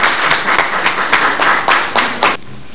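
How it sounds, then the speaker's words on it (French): An audience applauds at a televised union and government agreement announcement, a brisk run of distinct, fairly loud claps in an uneven rhythm that stops abruptly, leaving faint room tone. "On peut applaudir quand même."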